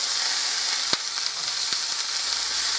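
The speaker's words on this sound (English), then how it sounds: "you want it good and hot, screaming hot, because you want to sear these. You want to sear them real good on each side." Food sears in a screaming hot pan with a loud, steady, close sizzle and a couple of sharp clicks from the pan.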